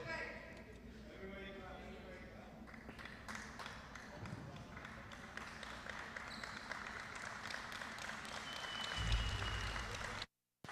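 Crowd applause at a jai alai (pelota) fronton for player El Barba after a third-place finish, a steady wash of clapping lasting about ten seconds with voices mixed in, swelling near the end before cutting off.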